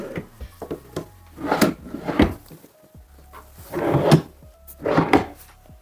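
Small wooden drawers in the armrest of an oak-finish chipboard euro-book sofa slide open and shut several times, each movement a close, rubbing scrape with soft knocks, spaced irregularly with brief quiet gaps.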